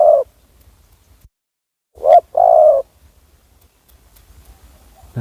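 Soft, low cooing calls of a spotted dove, one short call, then a pause and a two-part coo, heard alone against a quiet outdoor background.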